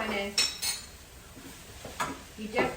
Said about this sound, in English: I'm just going to mix this all.